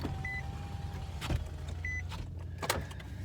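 A car's power windows run with a low electric motor whine inside the vehicle. Two short high tones and a few soft thumps break the steady hum, and no one talks.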